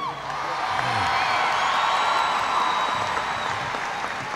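A political rally crowd in Columbus, Ohio cheers and applauds loudly. Dense clapping runs continuously, with whoops and shouts rising above it, while a speaker's voice is briefly audible at the start.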